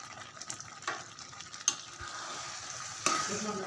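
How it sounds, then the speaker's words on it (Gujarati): Milk thickening in a pan for dudhi halwa, a bottle gourd sweet, is stirred at a medium pace; soft bubbling sizzle sits under scattered spoon scrapes and taps against the pan, quiet and close, without speech. "હવે આપણે થોડું વધારે હલાવવાનું છે"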